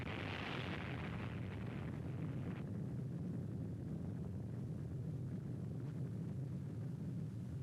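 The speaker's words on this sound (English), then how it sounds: "The epicenter of the detonation of the bomb was approximately 650 yards from the USS Nevada." An atomic bomb detonation at the Project Crossroads test near the USS Nevada produces a distant, heavy rumble that swells at first, then settles into a long, low roar lasting several seconds.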